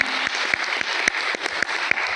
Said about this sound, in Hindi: अपना काम करिए, तालियां बजाने।